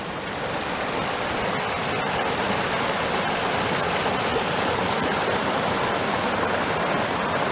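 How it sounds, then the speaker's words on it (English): Loud, constant roar of a waterfall in a gorge, a dense rushing wash of water close by with no voices. "There's a waterfall just here."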